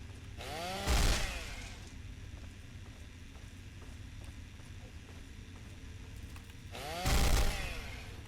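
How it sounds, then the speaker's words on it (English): Two loud bursts of a chainsaw roar in the video game Fallout 3, about six seconds apart, with quiet rustling and faint background noise in between. "Using a chainsaw on a rad roach."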